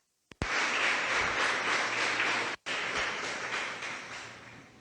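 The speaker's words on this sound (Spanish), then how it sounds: "Denle un aplauso al Señor en esta mañana." A church congregation breaks into sustained, dense applause, starting abruptly, briefly cutting out midway, then continuing and slowly tapering.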